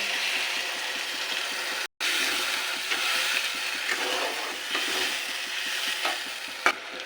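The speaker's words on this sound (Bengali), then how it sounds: "কষে তেল ছেড়ে এসছে, এবার দিয়ে দেবো জল।" Water poured into oil-released fried spice paste for a boal fish curry, producing a steady close sizzle and bubbling hiss after a momentary break, with light stirring scrapes in the pan.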